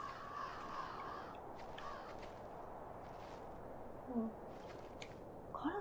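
A crow caws in the video game The First Tree, a few faint calls over a soft, hissing outdoor ambience.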